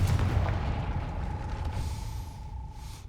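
A Confringo fire spell explodes in Hogwarts Legacy on PC, a loud low boom with a rumbling blast tail that fades out over a few seconds, with a faint sustained tone lingering underneath and no voices.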